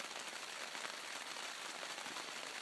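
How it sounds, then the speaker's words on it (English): Steady rain patters on a backpacking tent at a campsite along the Highline Trail, a dense, even hiss of countless drops close overhead with no pauses and no voices. "Just chilling here and listen to it rain."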